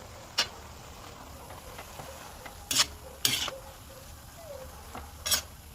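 A spoon stirs vinegar into food in a pan with a few sharp, scattered scrapes and clinks over a faint, low background hum, with no talking.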